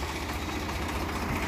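Swaraj tractor fitted with a Kirloskar engine runs steadily nearby, a dense, even low rumble that holds without pause for the whole short stretch, with no talking.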